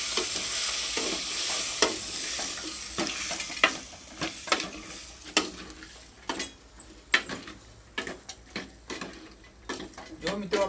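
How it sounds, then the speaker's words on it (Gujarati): A spoon or ladle stirs vegetable curry in a pot, giving repeated sharp scraping knocks against the metal over a steady sizzle and frying hiss, with no talking. "હવે હલાઈ નાખશું આપણે"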